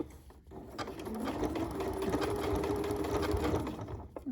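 A Janome MC9450 sewing machine stitches around an applique in one steady run, its motor whirring with a rapid mechanical needle rhythm, close and clear after a brief quiet start.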